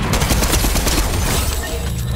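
Rapid bursts of gunfire from a 12-gauge shotgun duel in the Fortnite video game, loud and dense, with several sharp shots overlapping a constant background of game sounds.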